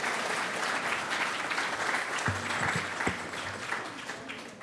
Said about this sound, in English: you can now give everyone one big round of applause.